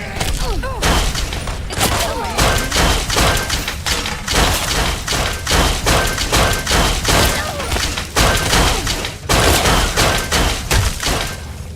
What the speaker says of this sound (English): Mind the explosion! Watch out!